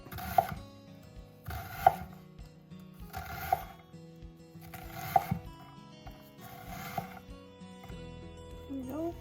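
A knife dicing an onion on a cutting board, with six distinct chopping knocks in a slow steady rhythm, close and fairly quiet, with light rubbing and clatter between them.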